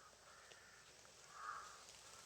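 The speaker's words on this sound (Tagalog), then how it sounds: "Daming mga dito, uwak." Crows cawing in an outdoor area, a harsh caw rising clearly around the middle over a faint steady background, with softer calls before and after.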